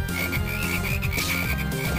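Frogs croaking in Castlevania: Portrait of Ruin, a repeating game croak over steady background music, loud and continuous across the short stretch with no talking.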